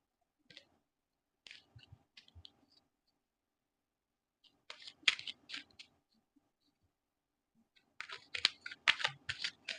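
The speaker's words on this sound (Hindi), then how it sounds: "जब तक मैं शफल कर रही हूँ" Tarot cards are shuffled by hand in short bursts of dense, papery flicking and clicking, close and fairly quiet, with brief pauses between the bursts.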